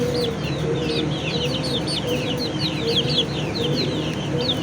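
A flock of chickens clucks and chirps continuously at a steady moderate level, layered over a constant low background hum.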